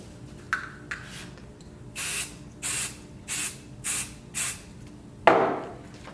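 Spray adhesive from an aerosol can is applied to embroidery stabilizer for a Brother PRS100 embroidery machine: about seven short hissing bursts, mostly evenly spaced, then a sharper knock near the end.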